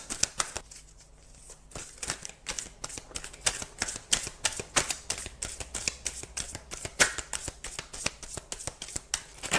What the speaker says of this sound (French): On va prendre une dernière carte de l'âme des arbres.